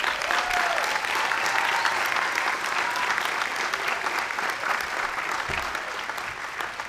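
An audience applauds at a university arts commencement ceremony, with steady, dense clapping from a large crowd that holds at full strength and then eases off slightly toward the end.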